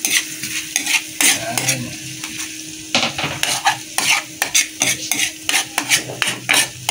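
Garlic frying and being stirred in a pan, loud close sizzling with rapid repeated scrapes and clinks of a metal utensil against the pan; a brief word is spoken once.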